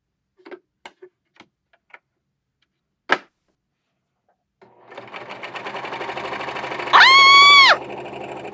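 A self-threading serger sewing machine starts up and runs steadily with a fast mechanical whir and rising whine, following a few scattered clicks and a sharp tap as it is handled.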